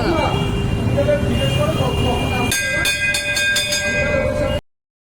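A Hindu temple bell is struck several times in quick succession, its bright, sustained metallic ringing layered over a busy background rumble and voices.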